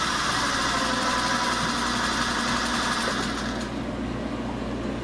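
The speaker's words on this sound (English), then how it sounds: "I love this sewing machine. I think this is my most favorite sewing machine." A straight-stitch sewing machine hums and rattles steadily at close range, running continuously before easing off slightly near the end.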